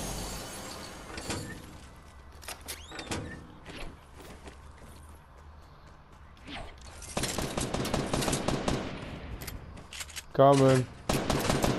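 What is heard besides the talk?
gunshots in a video game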